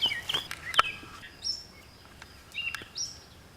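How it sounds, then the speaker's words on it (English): A bird with a dark blue back and dark grayish wings calls in a vegetable garden: a few short, high chirps at moderate distance, spaced irregularly over faint outdoor background with no talking. "I'm trying to not keep getting distracted with this beautiful bird, but it's gorgeous."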